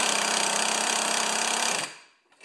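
An impact wrench hammering at a rusted-on mower blade adapter, a loud continuous rattling burst close by for nearly two seconds, then cutting off abruptly, leaving a brief faint clatter.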